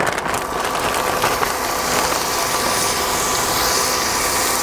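Pork hits hot oil in a pan and fries with a dense, loud, continuous hiss and crackle that begins abruptly and holds steady close by, with no one speaking.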